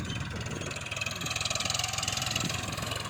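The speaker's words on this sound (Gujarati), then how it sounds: "જુઓ અત્યારે હાલ આ ટ્રેક્ટર લઈને આવે છે ને" A tractor engine idles and runs steadily at close range as it arrives in a potato field, a continuous low rumble with a faint rhythmic throb and no talking.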